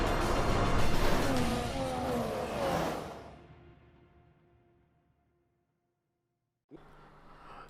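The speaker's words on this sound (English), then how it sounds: "So here we are then on the grid for the start of the Australian Grand Prix. 5 lights and we're off" F1 cars roaring off the grid at the Australian Grand Prix in F1 2016, a loud dense engine wash with rising revs that fades away over a few seconds into near silence before a brief sound returns.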